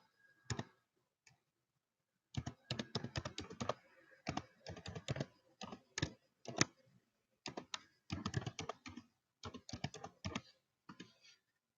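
Quiet bursts of rapid clicking keystrokes on a computer keyboard, uneven clusters of typing separated by short pauses, close and alone.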